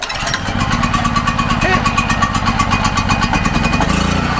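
An old Harbor Freight generator is pull-started and catches at once, settling into a loud, close, steady running drone with a fast rhythmic chug, with a voice heard briefly.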